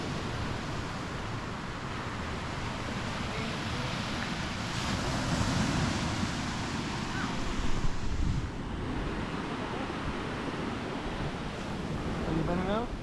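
Wind and surf on a Costa Rica beach make a steady broadband roar, with wind buffeting the microphone and a few louder gusts, continuous throughout.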